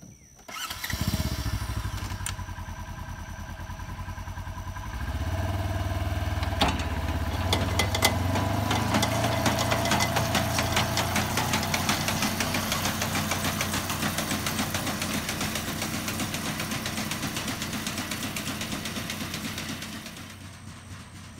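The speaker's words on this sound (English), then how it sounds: "I'm going to go ahead and put the ground drive on. Set the speed." An ABI 25 manure spreader runs on ground drive behind a tractor, an engine starting up and then a steady loud rumbling, clattering drone with rhythmic mechanical knocking, close and continuous.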